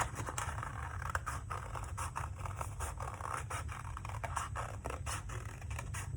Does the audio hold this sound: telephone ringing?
no